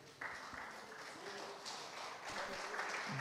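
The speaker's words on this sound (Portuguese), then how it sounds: "Fique de pé e aplauda o Senhor." Church congregation applauding during a service, a faint, quiet spread of clapping that builds slightly toward the end, with a few scattered taps and no talking.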